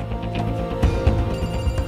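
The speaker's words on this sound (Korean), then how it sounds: "왔어, 전화 왔어." A telephone rings in a TV variety-show studio, an electronic ring with steady tonal pulses that sounds close and clear and is heard alone, with no talking over it.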